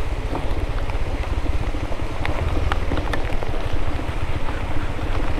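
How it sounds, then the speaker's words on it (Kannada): Rain falls outdoors as scattered drops patter and tick on a surface over a steady low wind rumble, with no one talking. "ಮಳೆ ಮಳೆ ಮಳೆಯೋ"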